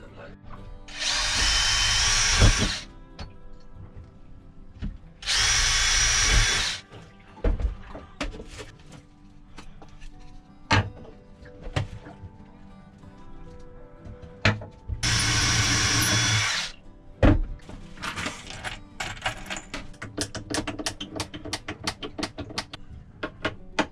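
Power driver sinking screws into battens for a boat chain locker platform: three bursts of a couple of seconds each, loud and close with a whirring motor, separated by clattering handling sounds and brief knocks.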